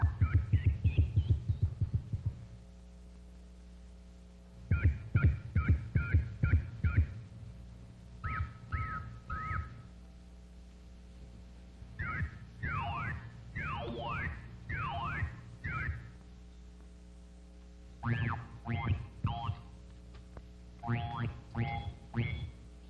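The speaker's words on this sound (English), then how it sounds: "Here are some groups of geometrical shapes and the playback sounds that correspond to them." Synthetic tones from the 1953 Pattern Playback machine as it sounds out painted geometrical shapes, with groups of buzzy, warbling pulses, sweeping and beating, separated by short gaps and heard alone.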